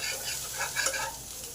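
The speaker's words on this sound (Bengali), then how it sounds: "জলটাও শুকনো হয়ে গেছে, ডাঁটাগুলো ভাজা ভাজা হয়ে গেছে" Drumstick stalks frying dry in a pan, stirred with a soft scraping sizzle; quiet and close, without voices.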